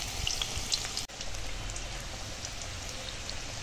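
Steady rain falling outdoors makes a dense, even hiss with scattered patter of drops, continuous and moderately loud throughout with no talking.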